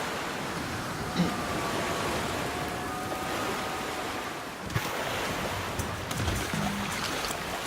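Water sloshing and lapping steadily around a small boat being rowed in the survival game The Flame in the Flood, with broad washing surf-like noise and a few soft knocks, no voices.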